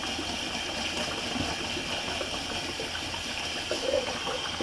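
Water runs steadily from a tap to rinse a shaving brush, a continuous close splashing wash with no pauses and no voices.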